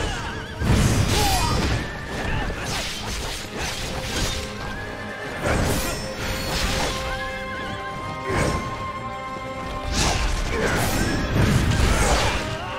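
A horse in the video game Wo Long: Fallen Dynasty gives loud, close neighs and whinnies over clip-clopping hooves, with crashing impacts and battle noise around it.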